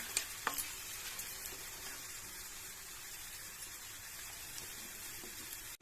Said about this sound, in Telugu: ఇప్పుడు నేను తాలింపును పచ్చళ్ళలో కలుపుకుంటాను.